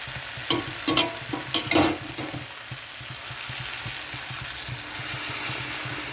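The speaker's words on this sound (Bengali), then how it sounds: "তো কষানোটা হয়ে গেছে, এখানে আমি দিয়ে দেবো গরম জল।" Hot water goes into a sizzling pan of sautéed spices for a shukto with mustard and cashew paste; a few loud splashing hisses come first, then a steady bubbling simmer carries on by itself.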